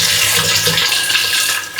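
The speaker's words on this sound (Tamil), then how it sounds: "இப்போ நல்லா பிளெயின் வாட்டர் மட்டும் விட்டு வாஷ் பண்ணி எடுத்துக்கலாம்." Plain water running steadily over oyster mushrooms being washed, a loud, close, continuous gush and splash with no talk.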